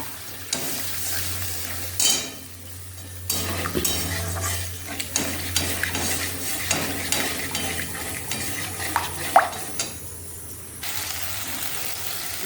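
Beaten yogurt stirred into a spice masala frying in oil in a pan, with a low steady sizzle, scraping spoon strokes and occasional clinks against the pan.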